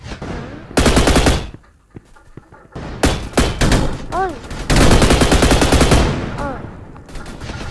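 Loud video game gunfire comes in long automatic bursts with short gaps, close and harsh, while a player shouts brief exclamations over it.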